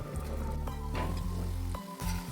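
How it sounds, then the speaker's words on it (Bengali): Cumin and turmeric powders fry in hot oil with a splash of spice-rinse water for a kohlrabi curry, a steady, close crackling sizzle with scraping stirring strokes breaking through now and then. "দিয়ে এটা ভালো করে কষে নেব যতক্ষণ না এটা থেকে ভালো মতন তেল ছাড়ছে"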